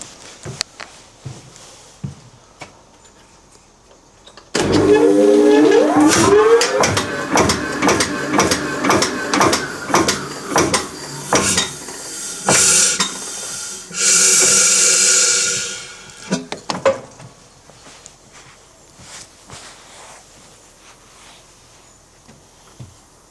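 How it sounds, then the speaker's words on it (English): A 100-year-old blacksmith's forge fires up with its air blower: a loud mechanical whir starts abruptly, rising in pitch as the fan spins up, with clanking and a rushing hiss before winding down to quiet. "So let's get the forge round, fire her up"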